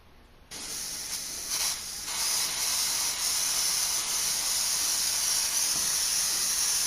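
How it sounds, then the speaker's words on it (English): Airbrush spraying Ben Nye Magicolor makeup in a gray off-white shade onto a face for a vampire look: a steady, close, breathy hiss starts after a brief quiet moment, then runs continuously with slight surges. "spraying over my own face is not the easiest thing"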